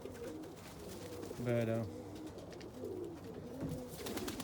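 Pigeons in a loft give one clear, throaty coo mid-clip, heard close over a murmur of low bird sounds while someone speaks briefly.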